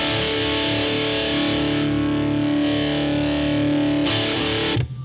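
Electric guitar played through a Boss XT-2 Xtortion distortion pedal with its Punch control engaged, a thick sustained distorted chord ringing loud and alone, then cut off abruptly near the end.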